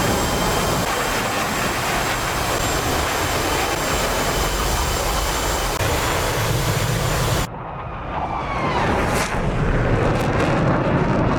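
Jet aircraft engine roaring in flight in the DCS combat flight simulator, a loud steady broadband drone that shifts abruptly partway through to a brighter, thinner whine with rising tones.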